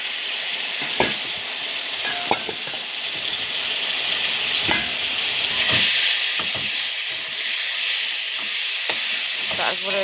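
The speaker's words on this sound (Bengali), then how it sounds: "তারপরে একটু নাড়াচাড়া করতে হবে।" Mango pieces fry in a pan of hot oil with dried red chilli and panch phoron spices for mango chutney, giving a steady close sizzle broken by repeated scraping stirs at irregular intervals.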